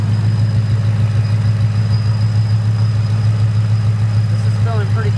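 The engine of a 2019 Ford Mustang idles steadily up close, a deep, even rumble with a faint high whine above it, while a voice talks over the engine near the end.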